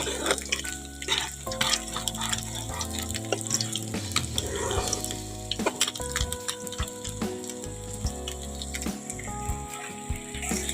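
Water poured from a pot into spiced Bhola fish curry (tel jhal) in a pan, with a close, steady splashing and trickling that sits under a faint musical background.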